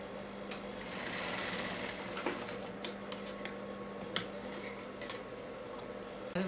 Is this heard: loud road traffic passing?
no